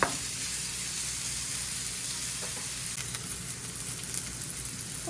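Pork chops fry in a hot pan, a steady, loud, dense sizzle that crackles throughout with no voices.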